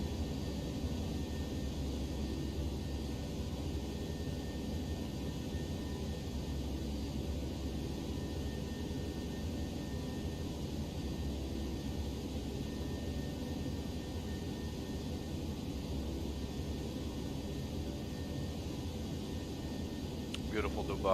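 Steady broadband roar of Airbus A319 engines at climb thrust in the X-Plane 11 flight simulator, a continuous even drone with no clear rise or fall.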